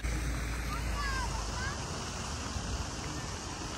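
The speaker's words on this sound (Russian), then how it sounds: "Вот мы и пришли на море." Sea surf at a Black Sea beach in Sirius in July, a steady broadband wash with heavy wind buffeting on the microphone, continuous throughout with faint voices in the background.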